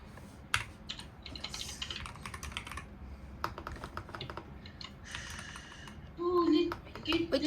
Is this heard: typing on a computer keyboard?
yes